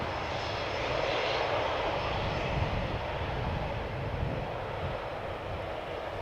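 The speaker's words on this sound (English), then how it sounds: "On its way to Turkey, Turkish Airlines flight 1952." Turkish Airlines flight 1952 roars from its jet engines at Schiphol Airport, a steady, broad, moderately distant drone with no talk over it.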